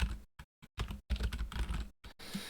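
Fast, close bursts of typing on a computer keyboard, clustered keystroke clicks broken by short pauses, crisp and fairly loud with no talking.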